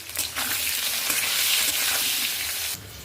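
Boiled, cut potatoes fry in a pan with a loud, hissing sizzle that rises abruptly, holds steady for a few seconds, then drops back, with no one talking.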